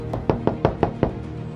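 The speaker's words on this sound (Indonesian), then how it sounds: "tidak menanggapi ketukan daun pintu yang terus-menerus terdengar" Someone knocks on a door in a quick, even series of about six raps. The knocks sound close and distinct with nothing else over them.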